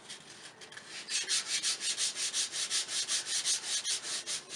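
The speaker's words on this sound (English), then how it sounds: "sand with the grain." Sandpaper rubs along the grain of a wooden ring dish in quick, even back-and-forth strokes. The strokes start after a brief quieter moment and continue close and loud with a steady rhythm, alone.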